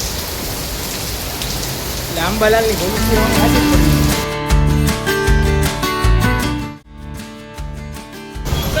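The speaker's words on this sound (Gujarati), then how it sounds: "વરસાદ ચાલુ છે." Steady rain pours down in a dense hiss, with a voice talking over it and some clattering sounds partway through.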